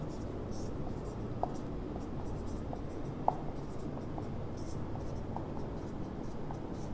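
Chalk or marker on a board during a maths lecture on determinants, producing faint scattered taps and strokes under steady room noise, with one sharper click partway through.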